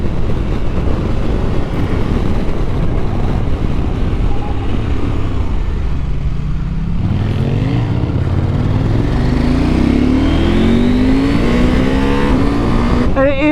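A 2023 KTM 890 Adventure motorbike engine roars continuously and loudly, then revs up with a rising pitch toward the end.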